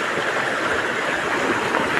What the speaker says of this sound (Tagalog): Isang sapa lang po ito, hindi ilog.